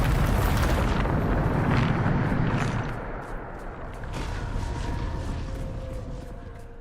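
A Bombarda spell explosion in Hogwarts Legacy erupts as a loud, rumbling blast that sustains for a few seconds, then decays into a lower crackling rumble with lingering debris noise.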